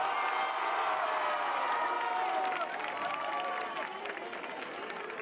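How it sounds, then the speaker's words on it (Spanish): Large crowd applauding and cheering for a world champion at a public event, a dense wash of clapping and shouting that stays loud and then eases slightly toward the end. "fuerte aplauso para el campeón del mundo, Ilia Topuria."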